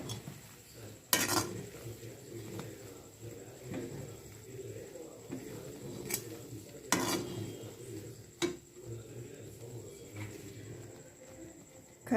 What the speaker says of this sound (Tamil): போட்டு நல்லா கிண்டி விட்டுறணும்.